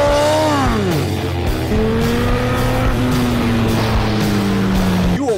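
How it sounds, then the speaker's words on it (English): A loud engine revs and winds down in pitch, then holds a steady droning tone, running continuously without pause. "I just love the sound of my bike."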